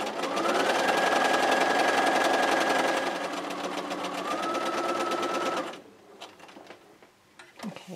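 A sewing machine stitching a raw-edge square quilt runs in a steady, fast, loud whir for several seconds, then stops and gives way to quieter handling clicks and rustles.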